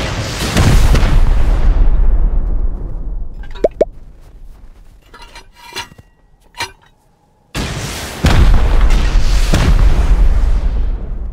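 Rocket explosions during a raid in the survival game Rust: heavy booming blasts roar at the start, then a quieter stretch with scattered small pops and thuds before another long run of loud, rumbling detonations.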